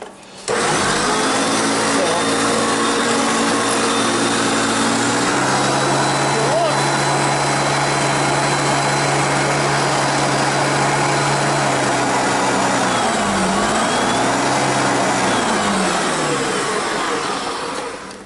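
A 1980s Hoover Concept One Power Drive U3101 upright vacuum, the two-speed self-propelled model, runs steadily and loudly near at hand, its motor drone dipping and wavering in pitch partway through before settling, with no talk over it.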